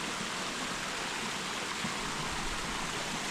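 A waterfall and rocky stream rush continuously, a dense steady roar of falling and flowing water filling the scene with no voices.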